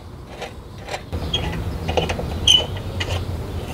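Bolts tightened while fitting spacers for a motorcycle windshield, heard as close, steady ratchet-like clicking and creaking metal over a low rumbling background, with no speech.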